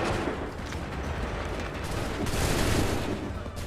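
Dense, continuous musket gunfire from massed volleys in Assassin's Creed 3, a loud, churning battlefield wash of overlapping shots with no single reports standing apart.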